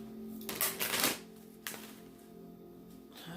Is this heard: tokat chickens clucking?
no